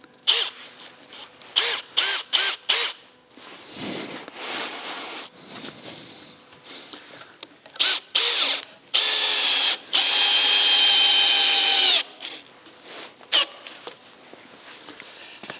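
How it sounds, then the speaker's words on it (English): A power drill drives a screw into a large wooden barn door in short, sharp whirring bursts, then one long sustained run, loud and close with quiet pauses and handling noises between. "The first screw in."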